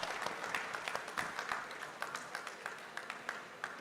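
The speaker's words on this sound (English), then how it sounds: "Round of applause." Steady applause from a quiz show audience, many hands clapping at once, moderately loud and sustained throughout.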